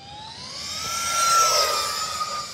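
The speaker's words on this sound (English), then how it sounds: "Sounds like an air raid siren trying to start." The whining twin 40mm ducted fans of an E-flite F-14 model jet rise steadily in pitch, howling like a siren as they spool up, loud and continuous with no talking.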